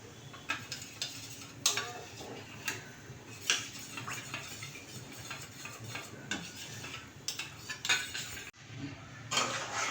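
A spoon scrapes and clinks against a pan as mango pudding mixture is stirred, steady rhythmic metallic taps and scrapes close up with no talking.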